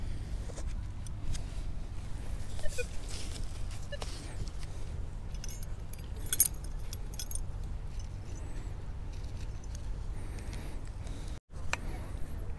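House keys, bobby pins and rings rattle and jangle in a metal-detecting scoop on a beach, with scattered light metallic clinks over a constant low background rumble.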